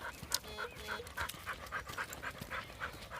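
A dog pants heavily and rapidly during a birthday walk, a steady run of quick, breathy huffs close to the microphone with no voices over it.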